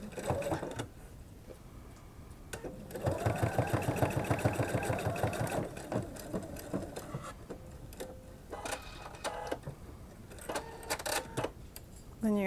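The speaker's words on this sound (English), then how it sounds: "And then you just go ahead and finish that top sewing." A sewing machine stitches fabric for an axolotl plush pattern in quick rhythmic bursts, a rapid mechanical chatter that starts, pauses and restarts several times at close range, fairly quiet overall.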